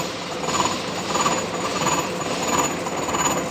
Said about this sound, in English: you have to move the workpiece against the rotation of the cutter. The cutter is going to be remove the material